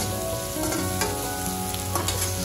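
Chicken fried rice being stirred and fried in a hot pan, a steady close sizzle with scraping stir strokes running throughout, no voices.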